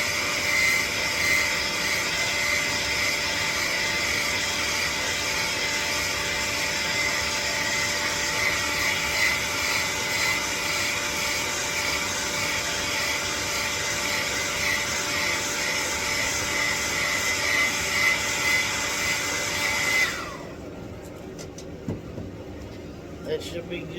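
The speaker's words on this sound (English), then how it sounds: "We'll give it a quick shot with the blow dryer." A steady, loud whooshing blow dryer roars continuously for about twenty seconds drying paint on a fishing lure, then cuts off, leaving a quieter room with faint sounds.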